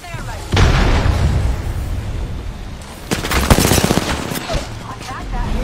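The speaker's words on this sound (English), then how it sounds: "Grenade deployed." Gunfire and explosions from a video game, with a heavy boom near the start followed by bursts of rapid shots, loud and close, under faint voice chatter.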